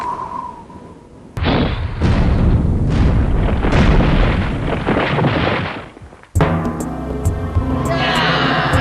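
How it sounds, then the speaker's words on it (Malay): A light cannon fires in a Malaysian historical drama set on a mountain, giving a loud, sustained booming blast with a rumbling tail that runs for several seconds, followed by a sharp second burst and dense ringing clatter. "Kamu di sana, ayo berlindung semua sebelum saya nyalakan meriam ini."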